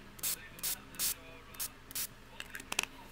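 A Glimmer Mist spray bottle of Pashmina colour hisses onto paper in five short, evenly spaced close bursts. A few quicker, fainter spritzes and clicks follow.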